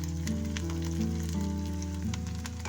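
Onion frying in oil in a pan for a bitter gourd (karela) curry, a steady close sizzle running throughout with no talk.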